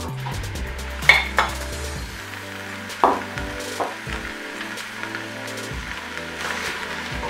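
Minced meat goes into a pan of browned onions and garlic for a Bolognese sauce, with a few sharp clinks of a utensil against the pan over a soft, low sizzle and scraping stirs.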